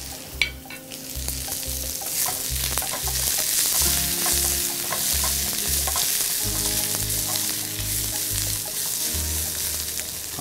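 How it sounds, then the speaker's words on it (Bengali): Ingredients for a pangas fish bharta fry in oil on a stove, a continuous crackling sizzle with stirring scrapes and clinks, close and steady, while a low regular hum pulses underneath. "আমাদের এইটা ভাজা প্রায় শেষ হয়ে আসছে, আমরা স্টোভটা নিভে ফেললাম।"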